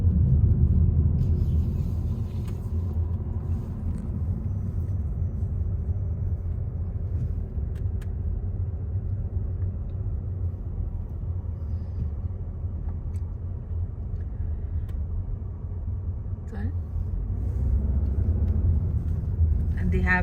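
Steady low engine and road rumble from a car driving along the road toward the Biltmore Estate in Asheville, North Carolina, heard from inside the cabin.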